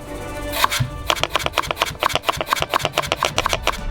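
A knife on a board cutting potatoes into thick strips: a loud first chop, then a quick, steady series of crisp, close cuts in even rhythm, with no talk.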